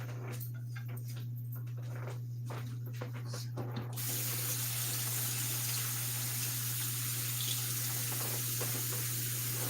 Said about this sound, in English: I'm going to scrub my potatoes.